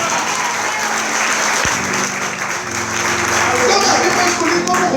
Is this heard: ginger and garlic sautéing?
no